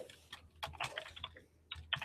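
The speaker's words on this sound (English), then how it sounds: "I guess I just didn't finish typing all that in" Quick bursts of typing on a computer keyboard, close and moderately quiet, with clustered keystrokes, a brief pause, then another flurry, no voices.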